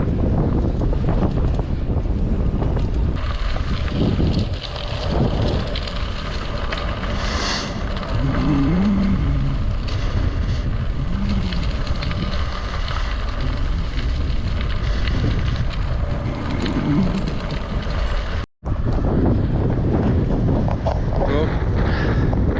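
Steady, heavy wind roars across the microphone for the whole stretch as a gravel bike heads into a sunset headwind on a long ultra-distance ride near Amboise, broken by one brief dropout.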